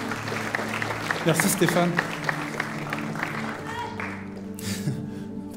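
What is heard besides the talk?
audience applauding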